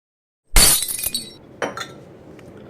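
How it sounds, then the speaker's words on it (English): Glassware shatters loudly and close by in a school chemistry lab, a sharp crash followed by scattered tinkling shards and a second smaller clink about a second later, with no talk. "Some broken glass over here."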